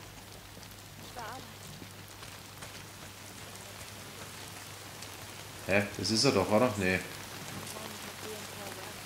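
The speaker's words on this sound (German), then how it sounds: "Jetzt regnet es schon wieder." Steady, even rain patter hisses throughout in the video game Days Gone, with a brief burst of people talking near the end over the downpour.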